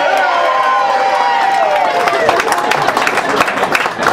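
A restaurant crowd at a political campaign talk breaks into clapping and cheering that builds into a dense patter of hand claps, with a voice speaking over the start.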